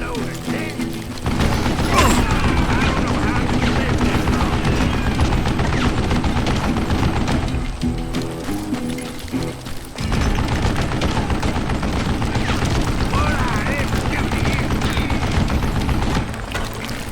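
Dense, continuous gunfire fills a Western shootout in the video game Call of Juarez: Gunslinger, with rapid overlapping shots and booms, loud and close throughout.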